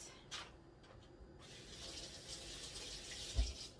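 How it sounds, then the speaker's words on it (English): Tap water runs into a sink while a zucchini is rinsed, a soft steady gush heard faintly and close, with a small knock near the end. "let me go rinse this off"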